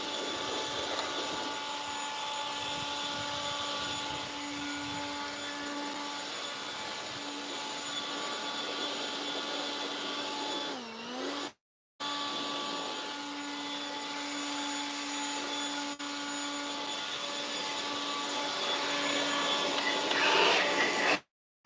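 A lightweight leaf blower sends hedge trimmings out into a yard, its steady whining drone loud and close, briefly cut off near the middle before resuming and swelling toward the end.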